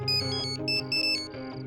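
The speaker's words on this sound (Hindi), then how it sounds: "तारा का फोन" A phone ringtone plays alone, a bright melodic electronic tune with repeating high tones in short bursts, fairly loud and close.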